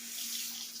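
Water runs steadily from a vanity faucet in a powder room under renovation, a continuous close hiss with no voices over it.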